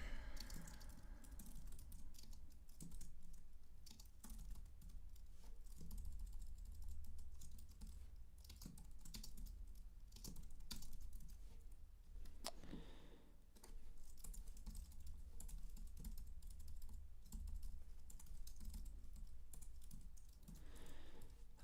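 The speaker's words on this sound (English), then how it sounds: "Pardon me while I type this out." Typing on a computer keyboard, a long stretch of quick, uneven key taps with brief pauses, close and soft.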